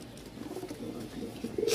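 A male Rajshahi giribaz pigeon, a colour-matched Rajshahi breed, coos in a short, soft burst near the end, close by and under a low background hum.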